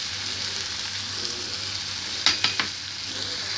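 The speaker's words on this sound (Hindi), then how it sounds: "इसमें अब हम ओट्स डाल देंगे" Oats stirred into a tomato mixture frying in a pan, a steady close sizzle throughout with a few sharp scraping knocks of the spoon near the end.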